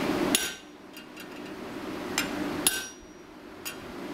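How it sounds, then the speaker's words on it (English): Hammer strikes a metal punch in several sharp, ringing blows spaced about a second apart, close and clear over a quiet background. "Give it a couple more whacks."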